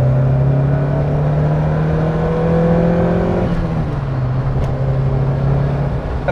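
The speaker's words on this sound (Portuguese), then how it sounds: "Eu vou-vos mostrar o que é este carro a puxar com os seus 200 cavalos, está bem?" A Lancia Delta Integrale 16v with about 200 horsepower pulls hard in third gear, its engine note climbing loudly and steadily from inside the car, then dropping briefly as if shifting before rising again.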